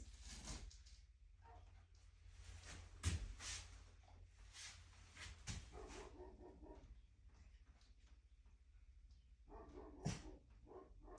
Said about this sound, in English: They're barking, but there's nobody